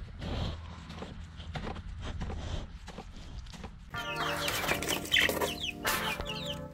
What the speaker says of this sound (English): We need to put the chickens outside so that they can play in the chicken coop